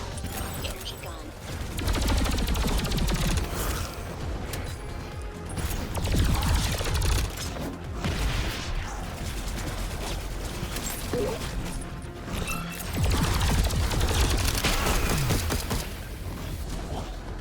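An energy gun in the video game Alienation fires in dense repeated bursts of loud, crackling shots among other battle noise, with short pauses between volleys.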